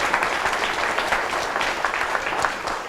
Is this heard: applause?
yes